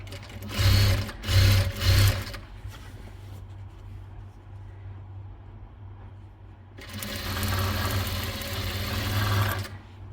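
A sewing machine stitching lace along the edge of a designer bedsheet runs in three short bursts, pauses with faint background noise, then hums steadily for several seconds, close and clear.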